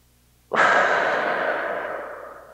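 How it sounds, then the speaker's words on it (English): One long, loud exhaled breath during a relaxing mobility stretching class, starting abruptly and slowly fading over two seconds, close to the microphone with no talking. "One more big breath."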